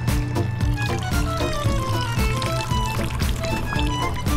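Water pours and trickles indoors, a small splashing stream with shifting bubbly tones, heard close up and without voices.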